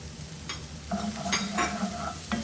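Chili and garlic sizzling in a pan with millet, a soft steady fry under intermittent stirring scrapes and clinks, close and moderately quiet.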